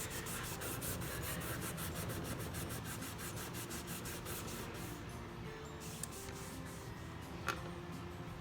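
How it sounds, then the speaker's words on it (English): A rag rubs briskly along the edges of a painted wooden board to distress a farmhouse-style finish, producing a steady, close, fast rhythmic scrubbing that runs continuously at low volume with no one speaking. "just lightly distressed with a rag"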